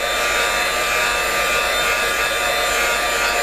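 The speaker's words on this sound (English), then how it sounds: "Just make sure when you dry this with the heat gun that you don't over melt your embossed areas." A heat gun drying embossing ink on a scrapbook project gives off a steady, loud, unbroken hot-air whoosh from start to finish.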